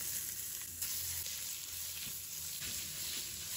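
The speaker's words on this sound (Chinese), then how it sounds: "锅中加入适量的食用油，油热之后，我们下入五花肉" Pork belly sizzles and fries in hot cooking oil in a wok, a steady close crackle with bright spitting pops and occasional stirring scrapes, no voices.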